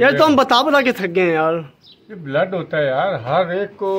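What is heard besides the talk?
No everyday noises stand out.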